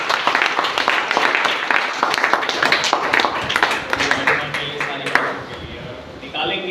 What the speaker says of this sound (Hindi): जोरदार एक बार ताली बजा के प्रभु को महिमा